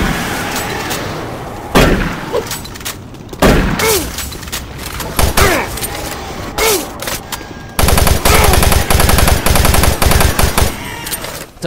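Rapid automatic gunfire in the shooter game Doom 3, loud and close, with sporadic single shots and bursts early on, then a sustained dense burst of fire through the final few seconds.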